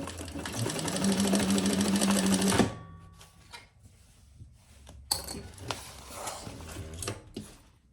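A sewing machine stitches a leather bag strap in a loud, steady whirring run of about two and a half seconds, then stops. Scattered mechanical clicks and clunks follow as the work is handled.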